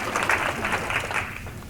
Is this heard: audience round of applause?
yes